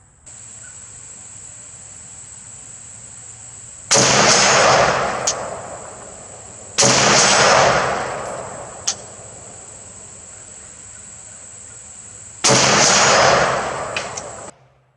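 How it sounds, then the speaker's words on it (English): Three loud, close gunshots from a K1A1 rifle, spaced a few seconds apart, each a sharp crack followed by a long echoing decay, over a faint steady background hum. "Let me shoot one more just so we got the fifth round in there."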